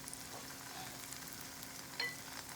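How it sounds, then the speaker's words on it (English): Paratha roasting in ghee on a pan gives off a faint, steady, soft sizzle with one small clink near the end. "I have applied little bit ghee on the pan, and we are letting roast our paratha"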